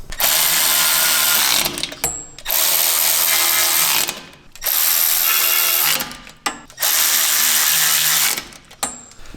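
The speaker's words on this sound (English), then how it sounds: "with all the bolts threaded into the hole, we can go ahead and tighten them up" Skid plate bolts on a Jeep JL Wrangler front axle are run tight with a powered ratchet, in four loud sustained whirring bursts separated by brief pauses and clicks, close up.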